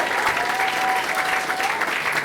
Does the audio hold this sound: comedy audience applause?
yes